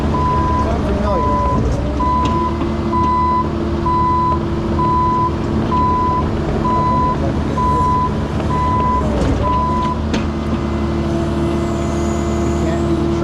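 Excavators and loaders work on a cleanup of a destroyed arena, clearing and recycling scrap metal. A reversing alarm beeps steadily in a regular rhythm for about ten seconds over loud, continuous diesel engine rumble and clanking.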